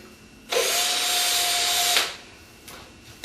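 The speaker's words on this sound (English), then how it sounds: "get the right size drill for the pick, drill a hole into it." A power drill bores holes into a candle for a Christmas centerpiece, one steady whining burst of about a second and a half that starts and stops abruptly, followed by a faint brief touch.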